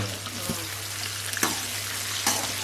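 Onions fry in a pan with a steady close sizzle, broken by a few sharp scraping stirs and a low constant hum underneath, with no voices.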